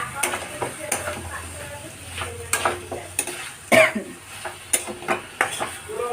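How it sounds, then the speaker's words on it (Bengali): A spoon scrapes and knocks against a pan as a fig curry is stirred over a low flame, irregular clinks and scrapes over a soft, low sizzle. "এবার ভালো করে নাড়ছি।"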